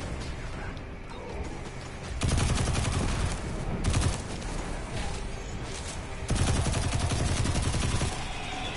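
Rapid bursts of gunfire from a weapon in Destiny 2, dense clattering volleys that swell and fade in waves over mechanical clicks, loud and close with no talking.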